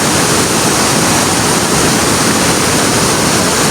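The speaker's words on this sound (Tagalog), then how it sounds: "Ganda ng falls oh." Pulangbato Falls near Valencia, Dumaguete, Negros, pouring as a loud, constant broadband roar of falling water, close to the listener and unbroken, with no other sounds or voices.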